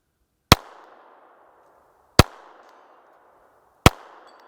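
Three sharp pistol shots from a SIG P322 Comp fired slowly at a 4-inch steel plate 100 yards downrange, each crack followed by a short decaying echo, spaced about one and a half seconds apart.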